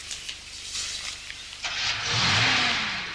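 A car engine revs hard with tyres spinning and smoking, starting as scattered mechanical clatter, then a sudden surge into a loud, swelling roar with a rising whine near the end.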